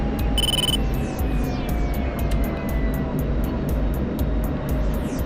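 A fixed-wing aircraft drones steadily in a Syria war flight game, its engine a loud, continuous roar with faint falling tones. A brief high beep sounds at the start.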